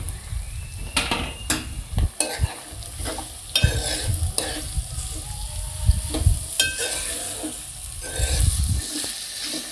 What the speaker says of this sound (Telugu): ఇది ఇలా వేగాక సన్నగా కట్ చేసి పెట్టుకున్న ఉల్లిపాయలండి